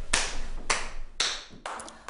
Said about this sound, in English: It's just a clap. Just pass it around.